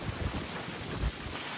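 Strong wind buffets the microphone on an open cruise ship deck at sea, a continuous low roaring rush with gusty swells and no voices.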